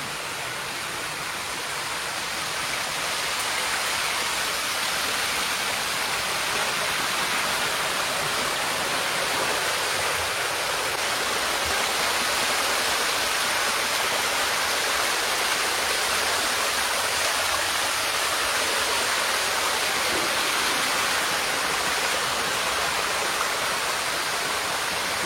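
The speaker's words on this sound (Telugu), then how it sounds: "చూడండి అరుణాచల శివ ఎంత స్వచ్ఛమైన జలపాతం వస్తూ ఉందో." A clear, cold waterfall on Arunachala hill spills into a rock pool with a loud, steady rushing roar that holds unbroken and close for the whole stretch.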